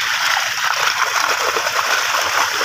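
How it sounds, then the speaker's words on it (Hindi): Water gushes steadily and loudly from the outlet pipe of an 8 hp diesel engine water pump into a paddy field, a close, continuous splashing rush with no talk. "देखिए कितना अच्छे से पानी गिर रहा है"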